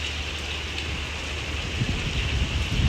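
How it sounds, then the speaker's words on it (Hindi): Steady rain falling outdoors, a dense even hiss of drops on surfaces that swells slightly toward the end, with no voices. "बारिश हो रही है"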